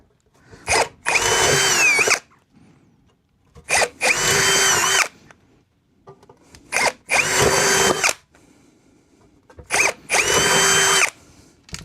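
A power drill bores holes in an amplifier chassis, with three loud, close bursts of whining motor spaced by quiet gaps, each preceded by a brief trigger blip.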